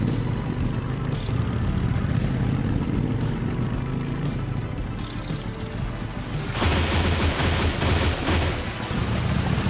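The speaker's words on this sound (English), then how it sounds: "Get that 30 cal on the swing around because I still have more than 2/3 of my ammo" Rapid bursts from a .30 caliber machine gun in the video game Ashes Afterglow, dense and continuous over engine-like rumble, growing louder and harsher in the last few seconds.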